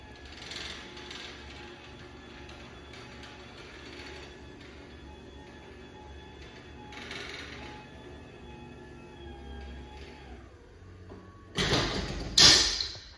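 A Chamberlain LW5000EV garage door opener runs with a steady mechanical hum and faint rattling, then ends in a loud, close thump as the door closes.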